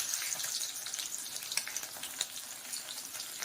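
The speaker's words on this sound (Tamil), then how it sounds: "எண்ணெய் காஞ்சிச்சுங்க, கடுகு போட்டுக்கலாம்." Mustard seeds and lentils sizzle and crackle in hot oil in a pan, a faint, steady frying hiss dotted with small pops and no voices.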